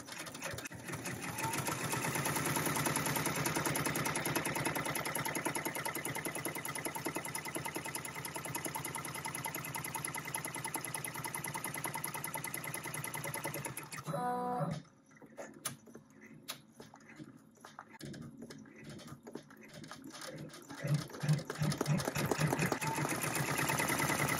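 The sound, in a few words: embroidery machine sewing seams with thread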